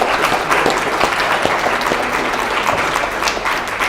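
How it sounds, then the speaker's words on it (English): Audience applause at a talk or presentation, a dense steady wash of many hands clapping close and loud through the whole stretch, with a faint voice barely audible beneath. "round of applause"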